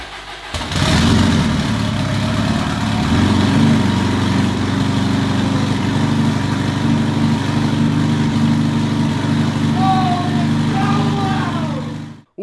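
Twin-turbo Subaru STI engine in a home garage cranking and firing up, then settling into a steady, loud, rumbling idle that continues alone until the sound cuts off abruptly.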